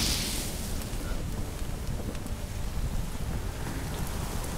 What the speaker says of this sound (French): Ah ouais, un orage, il manquait plus que ça.